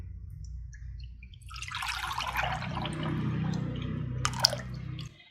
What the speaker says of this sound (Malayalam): അത് നമുക്ക് ഈ പാത്രത്തിലേക്ക് ഒഴിക്കാം.